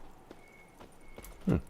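Roach the horse in The Witcher 3: Wild Hunt clops along with a few quiet, spaced hoof strikes, faint and somewhat distant, ending in one slightly louder thud.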